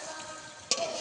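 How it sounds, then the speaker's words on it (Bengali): Khasta gaja, flaky sweet pastries, deep-fry in hot oil with a bright, dense hiss that runs throughout, jumping louder with a sudden burst of bubbling partway through as more pieces hit the oil. "এগুলোকেও ভেজে নেব।"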